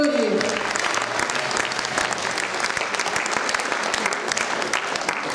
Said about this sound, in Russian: Аплодисменты острому хранителю истории.